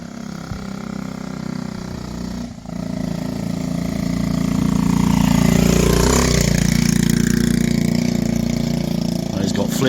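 A 1969 Honda Z50 minibike engine running with its carburettor not yet set up, a buzzing, rising mid-pitched drone that swells to a steady rev, close and loud, with voices talking over it.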